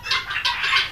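Tithi chickens on a small farm give a brief, close burst of clucking calls, three quick rising clucks, with no voices.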